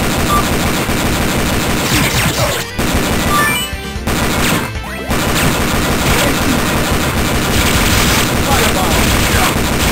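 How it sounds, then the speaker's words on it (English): Heavy machine gun fire in the Metal Slug 6 arcade game, a dense, loud, continuous rattle of shots and explosions mixed with game music, pausing briefly twice. "Heavy machine gun."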